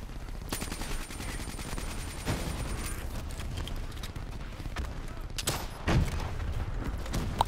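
Missiles and explosive fire in the video game Black Ops 3, a sustained rumble of blasts and bursts with a sharp impact near the end, no talking.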